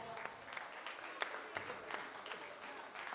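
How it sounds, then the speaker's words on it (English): Scattered applause from people poolside at a county swimming championship, thin and somewhat distant, with irregular claps over a reverberant background. "if we can just have a round of applause for our amazing volunteers"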